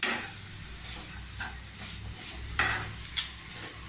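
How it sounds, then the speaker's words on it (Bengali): Sweet roll stuffing stirred with ghee in a pan over medium heat, a continuous close sizzle with soft scraping strokes and a couple of sharper utensil scrapes, no talk. "ঘি দিয়ে আবারও একটু ভালো করে মিক্স।"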